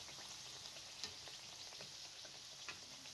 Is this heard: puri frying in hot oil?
yes